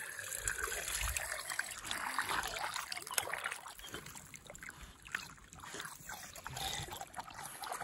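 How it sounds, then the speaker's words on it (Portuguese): Water gushes and trickles from a natural spring at a pipe mouth, a soft continuous splashing flow with no talking. "Impressionante o volume d'água que nasce aqui."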